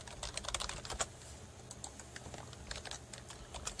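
Rapid typing on a computer keyboard with keyboard shortcuts pressed, steady clusters of close, crisp keystrokes running throughout over a faint background hum, no talking.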